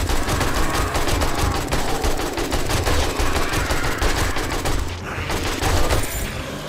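AK assault rifle gunfire in the video game 7 Days to Die: loud, rapid automatic fire in a steady stream of sharp shots, close and alone, with a brief pause before a final burst.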